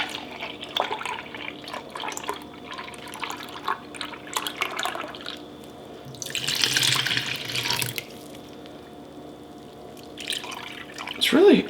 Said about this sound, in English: It's really hard to pour in this position